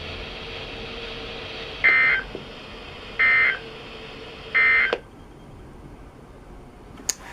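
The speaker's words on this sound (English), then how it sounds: "This concludes the weekly test of the warning alarm system." NOAA weather radio station WXJ53 sounds its required weekly EAS test alert: three short, evenly spaced electronic tone bursts over steady static hiss, followed by a couple of faint clicks.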